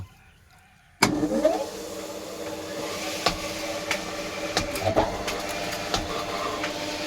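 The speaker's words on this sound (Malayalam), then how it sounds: "കിലോസ്കറിൻ്റെ മോട്ടർ പ്രവർത്തനം തുടങ്ങിയുണ്ടോ" After a brief quiet moment, a Kirloskar electric water pump motor switches on and settles into a steady, droning whir with occasional clicks and knocks.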